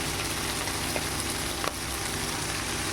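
Shrimp frying in oil in a pan for a home-style Bengali dish, a dense, continuous close sizzle with faint crackles and no voices.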